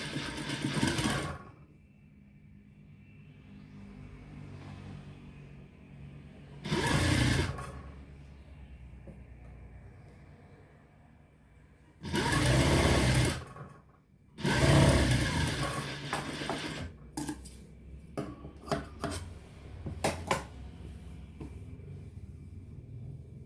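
A sewing machine stitches a kameez in several short, whirring bursts of a few seconds each, separated by quiet pauses. A longer run comes near the middle.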